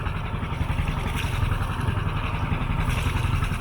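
Marine engine on a sailing boat anchored off Cap Corse at Centuri, running steadily with a dense low rumble and rapid regular throb, close and continuous without pause.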